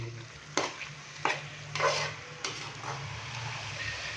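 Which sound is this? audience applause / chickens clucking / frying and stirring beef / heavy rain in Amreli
frying and stirring beef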